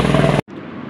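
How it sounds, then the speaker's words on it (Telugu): Helicopter flying on the Chardham Yatra route in Uttarakhand, heard as a loud, close, steady roar with a pulsing throb that drops out for a split second midway, then returns slightly quieter. "హెలికాప్టర్ అయితే చాలా ఫాస్ట్గా వచ్చేసింది."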